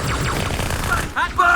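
Gunfire and a grenade explosion from the Halo video game, heard as a loud, rapid burst of shots followed by sharp crashing blasts, all within a second and a half.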